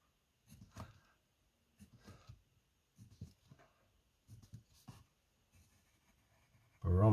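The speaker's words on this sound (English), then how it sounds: "So I'm going to draw the scale" A pen traces a barometer scale with a circle drawing tool, giving about five short scratchy bursts at a steady pace, close and quiet, ending in a loud thump.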